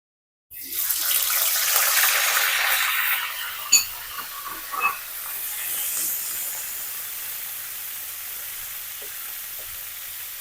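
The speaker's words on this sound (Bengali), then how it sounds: "আমি প্রথমে চিংড়ি মাছটা ভেজে নিব" Shrimp, lightly salted and coated with turmeric, hits hot oil in a pan with a loud burst of sizzling, then settles into a steady, softer frying hiss broken by a few utensil clicks. No voices.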